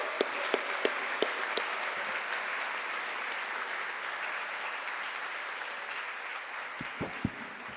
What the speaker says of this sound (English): we all should have a hand of applause for Dr. Aziz Shaibani.